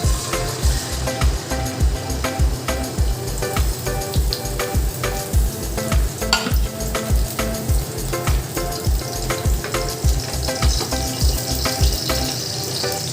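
A beaten egg mixture fries in a pan over very low heat, giving a steady, close sizzle with a regular tapping pulse running underneath and scattered clicks of stirring.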